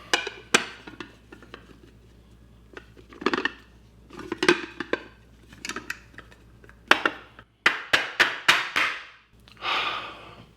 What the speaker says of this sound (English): so we cut it in the pan and take it out that way